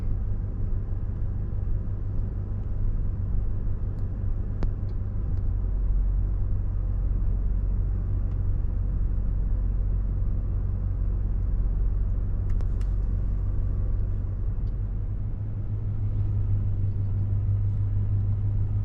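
Steady, broadband roar of interstate highway traffic with a constant low rumble and a soft hiss, continuous and unbroken, no voices.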